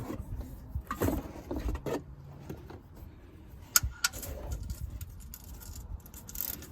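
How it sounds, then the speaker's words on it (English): A ratchet and socket handled during an oil change, producing scattered metallic clicks and clinks at close range, with a few sharper taps amid quiet rustling and no talking. "Next job is the ratchet and the socket."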